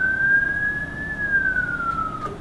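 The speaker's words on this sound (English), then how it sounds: "Siren." A wailing emergency vehicle siren, switched on from steering wheel controls, rises and falls in one long steady sweep, loud and close, alone over a low vehicle rumble.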